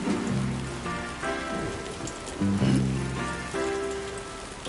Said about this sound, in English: No end to this rain.